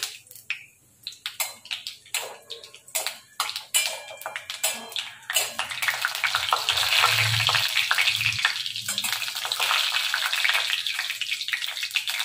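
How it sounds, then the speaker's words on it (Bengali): Chopped onions dropped into hot oil with a dried chilli and panch phoron, first with sharp crackles and pops, then settling into a loud, steady sizzle close by. "পেঁয়াজ দিয়ে দিলাম, এই পেঁয়াজগুলোকে একটু ভেজে নেবো।"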